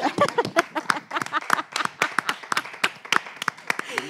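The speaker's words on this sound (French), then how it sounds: "Applaudissez la référence." A live studio audience on a French talk show claps for a few seconds: dense, irregular handclaps from many people, fairly close and lively, with some voices mixed in underneath.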